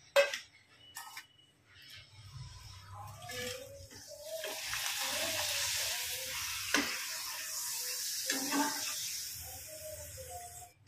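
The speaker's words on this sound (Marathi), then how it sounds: "अशाच पद्धतीने मी अजून पापड तळते।" Sun-dried udid dal papad fries in hot oil, a soft crackling sizzle that swells after a quiet start and holds steady, with occasional clinks and faint voice-like tones in the background.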